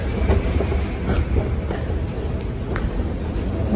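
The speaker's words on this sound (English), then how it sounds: "They have trains in the airport. Right here." An airport train rolls along its track with a steady rumbling hum and faint rhythmic clicks, heard from the platform at moderate level.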